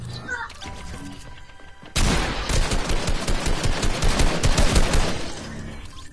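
Sudden burst of rapid automatic gunfire in a shooter video game, loud and sustained after a quiet start with chatter before it.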